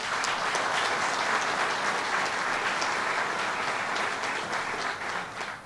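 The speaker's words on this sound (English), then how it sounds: "give our governor a round of applause" A crowd claps for the governor at an upstate New York economic development announcement in Binghamton, the applause broad and continuous, holding strong for several seconds before easing slightly at the end.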